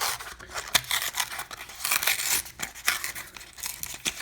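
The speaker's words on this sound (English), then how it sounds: "let's rip it open and look at it more closely" Crinkly plastic and cardboard packaging of a Hot Wheels 1/64 scale diecast car being ripped open, a steady run of sharp tearing and crumpling bursts at close range with no voices.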